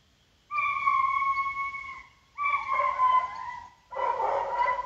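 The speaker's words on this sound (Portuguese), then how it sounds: "meu cachorro tá lá embaixo" A dog trapped down a hole howls three times in long, drawn-out wails with short pauses between, fairly close and alone.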